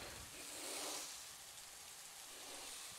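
Rain falling in the dinosaur survival game The Isle, a faint steady hiss of drops with no voices, continuous and even throughout.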